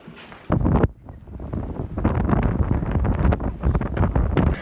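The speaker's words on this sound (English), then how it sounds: "It is literally so windy." Strong wind in Wales buffets the microphone in a loud, steady roar with gusting surges, close and constant throughout.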